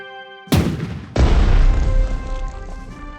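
Cannon artillery fire in the World War II strategy game Strategic Mind: Blitzkrieg, two heavy booms in quick succession, the second rolling into a long, loud rumbling decay.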